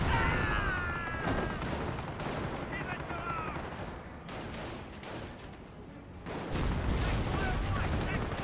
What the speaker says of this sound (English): Decoy barrage being brought on in once again, and an actual barrage as well.